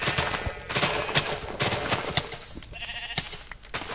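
Sheep bleat repeatedly while burning in a blocky sandbox video game, short bleats mixed with sharp crackling pops and bursts in an irregular, busy rhythm, fairly close and loud.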